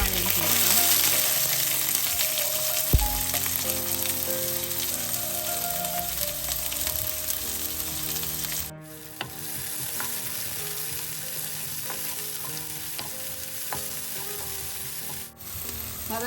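Onions frying in hot sunflower oil with mustard seeds, fennel and curry leaves give a loud, continuous close-up sizzle, with stirring scrapes and a couple of brief dips in the hiss.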